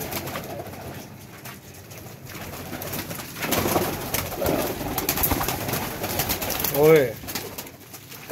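Pigeons coo in low, throaty bursts amid rustling and background chatter, with one louder nearby coo standing out near the end.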